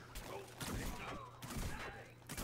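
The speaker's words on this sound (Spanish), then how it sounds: "¡Esa explosión!" Explosion and heavy bombardment in a video game, a cluster of loud booming blasts and thuds erupting in bursts over about two seconds of noisy game audio.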